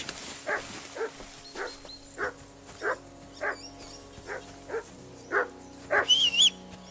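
Dog barking in the medieval game Kingdom Come: Deliverance II, about ten short, evenly spaced barks close by over low ambient hum, ending in a quick cluster of yips with a high whine.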